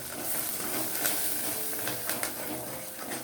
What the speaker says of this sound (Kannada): ಇವೆಲ್ಲ ಹಾಕ್ಕೊಂಡು ಎಣ್ಣೆಯಲ್ಲಿ ಚೆನ್ನಾಗಿ ಫ್ರೈ ಮಾಡ್ಕೋಬೇಕು